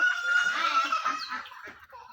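Ducks kept beside a village outdoor cooking stove give a brief run of close, raspy, nasal calls that fade out within about two seconds.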